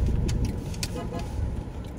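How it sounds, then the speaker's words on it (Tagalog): Short car horn toots sound over the hum of a car interior in Metro Manila traffic, a couple of quick honks close by with road noise underneath. "Ba't busina ka ba ng busina?"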